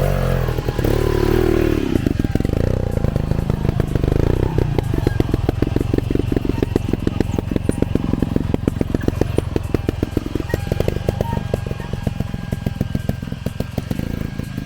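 A trial motorcycle picks its way through a section on a stage in Palma de Mallorca, the engine blipping in close, rapid bursts with rattles and scrapes from the terrain, loud and continuous.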